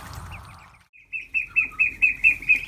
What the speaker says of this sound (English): 27-day-old ducklings.